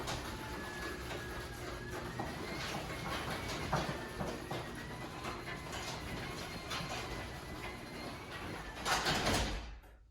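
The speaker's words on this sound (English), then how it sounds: "press the garage door button to close the door" A Genie garage door opener closes the door with a steady mechanical rumble and whine that runs for about ten seconds, ending in a louder clunk as the door meets the floor before going quiet.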